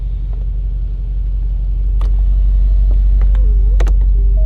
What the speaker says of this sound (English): Look how fast this convertible top is. Ready? I'm gonna click it.